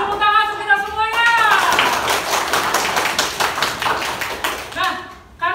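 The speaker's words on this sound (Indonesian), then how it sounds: "Tepuk tangan untuk kita semuanya." A school class claps for themselves, a quick run of rhythmic hand claps between voices chanting and speaking, close and lively in a classroom.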